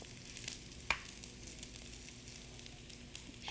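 Soft steady sizzle of rice frying with shrimp and scallions in a pan over medium heat, quiet and continuous, with one small clink of a utensil.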